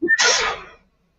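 A single sharp sneeze, close and fairly loud, with a quick intake of breath just before it.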